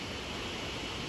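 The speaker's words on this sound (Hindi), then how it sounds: "आगे की तरफ एक वाटरफॉल है जो कि बहुत ही तेज़ से बह रहा है" Fast-flowing waterfall in Darjeeling, a steady broadband rush of falling water heard alone at moderate level, unbroken and even throughout.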